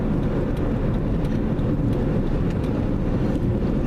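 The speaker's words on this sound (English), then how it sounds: "It's very windy," Loud, continuous wind roar buffets the microphone, with an even rushing sound from a 2017 Jeep Patriot driving at highway speed, about 65 mph, and no talking.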